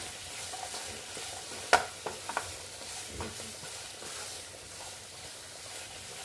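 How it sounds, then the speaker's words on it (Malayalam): Sliced onions with a little salt fry in a pan with a soft, even sizzle, broken by a few sharp scraping stirs in the middle; no voices. "എല്ലാവരും ഇടുന്ന മാതിരി സവാളയൊക്കെ വയളാൻ വേണ്ടിയിട്ട് നമുക്കൊന്ന് ഇട്ട് കൊടുക്കാം"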